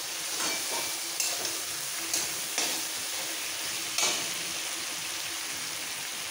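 Vegetables sautéing with ground coriander paste in a pan for a winter-vegetable rohu fish curry, a steady broad sizzle with a few sharp spatula scrapes and clinks, close and alone with no voices.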